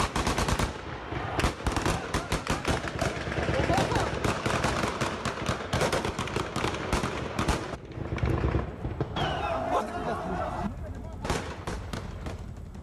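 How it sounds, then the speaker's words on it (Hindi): Bursts of gunfire as Taliban fighters shoot in Kabul to scatter a crowd, a dense, continuous clatter of rapid cracks and rattling volleys filling the air, loud and close, with shouting and voices mixed in underneath. "तालिबान के लड़ाकों ने एक बार फायरिंग की, जिसके बाद पूरा इलाका गोलियों की आवाज से गूंज उठा।"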